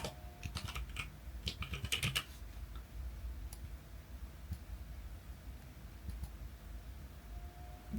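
Keys clatter on a computer keyboard in a quick burst of typing, then sparse individual key taps over a low background hiss, close by and fairly quiet.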